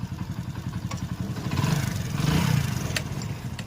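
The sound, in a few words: motorcycle engine idling beat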